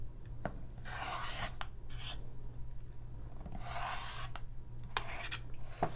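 Rotary cutter slicing quilting fabric along a ruler for half-square triangles, heard as a few quiet scraping, rasping strokes close by, each lasting under a second, over a faint steady hum.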